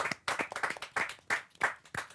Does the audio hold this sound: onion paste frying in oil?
no